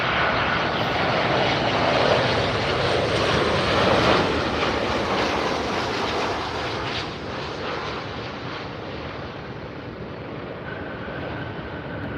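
A Southwest Airlines jet at LAX gives a steady, loud broadband engine roar that builds slightly, then eases and holds near the airport with no talk.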